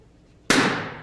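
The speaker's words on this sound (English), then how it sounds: "I am now going to go ahead and have you pop 2 balloons" One balloon pops with a sharp, loud burst at close range and then decays quickly into a short ringing tail, with no voices over it.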